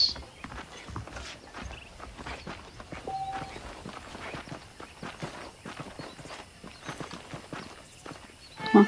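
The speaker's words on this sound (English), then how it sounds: "The horses are saddled up over here." Horse hooves from Red Dead Redemption clip-clop at a steady walking pace on hard ground, regular and fairly close, continuing throughout with a louder thump at the end.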